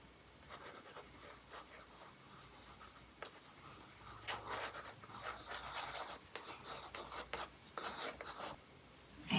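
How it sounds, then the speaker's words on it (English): Pencil drawing eyelashes on paper, heard as faint, scratchy, intermittent strokes and light rubbing across a quiet room, growing slightly busier toward the end. "I'm going to draw the eyelashes in after"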